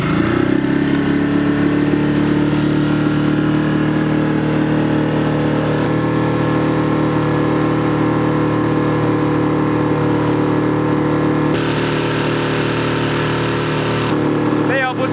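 A 5 horsepower outboard motor pushes a 3.5 m boat carrying three people, droning loudly and continuously at a steady pitch close by, with voices talking under the engine noise.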